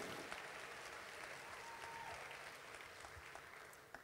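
Sustained applause from an audience for the actors of a stage musical at a spiritist congress in Goiás, a steady, fairly quiet spread of many hands clapping that tapers slightly toward the end.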